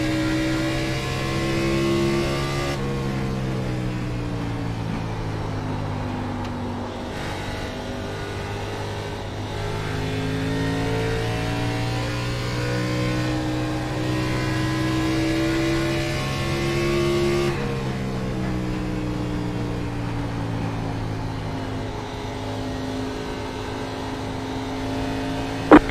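A race car engine drones on a raceway in a loud, sustained whine that rises and falls in pitch as it revs, with a sharp shift near the start and another partway through.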